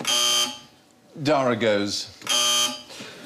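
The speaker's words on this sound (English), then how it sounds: "should any of our panel feel the need to bother with their buzzers today, they sound like this" Quiz show contestant buzzers on a comedy panel game sound as two bright, sustained electronic tones, each about half a second long. Someone speaks briefly between them.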